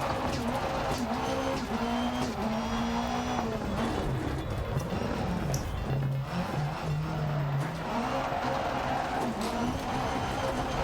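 Rally car in the video game Dirt Rally 2.0 at the Dirtfish stage, engine revving and shifting through gears with tire scrabble on gravel, loud and constant throughout while someone talks over it.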